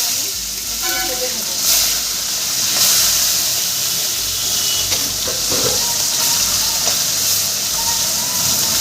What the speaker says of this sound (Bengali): তেলটা আমার গরম হয়ে গেছে তেল দিয়ে ধোয়া উঠছে এবার আমি মাছটা ছাড়বো